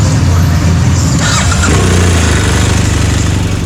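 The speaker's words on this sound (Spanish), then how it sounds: "Posteriormente a haber encendido la moto" A motorcycle engine, a touring bike with a fault, fires up and settles into a loud, steady idle with a rhythmic low rumble, near and continuous throughout; a voice may be faintly present.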